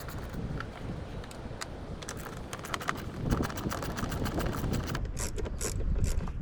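A ratchet wrench with an 8 mm socket clicks steadily as it backs out two bolts on a 2013-2019 Ford Escape, close and fairly quiet, with no talk.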